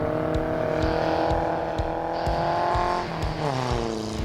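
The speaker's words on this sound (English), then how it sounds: "But racing on ice is a whole new deal for us." Race cars roar across frozen Lac La Biche in Alberta, driven by tow-truck operators: a loud, continuous engine drone with shifting revs, a drop in pitch near the end and faint tire squeal, no talking.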